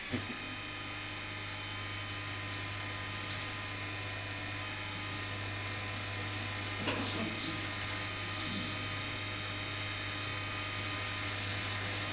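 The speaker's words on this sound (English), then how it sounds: "Just sanding this now, and then we can finish this up." Steady motor hum of a spinning lathe with a hissing, scratchy sanding sound laid over it, close and continuous.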